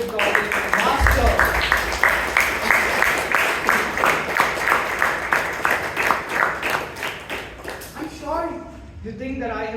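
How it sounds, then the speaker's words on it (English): An audience at a Toastmasters meeting in Bangalore breaks into a loud, sustained round of applause, steady rhythmic clapping from many hands filling the room before it fades into speech near the end. "A loud round of applause for our table topic master."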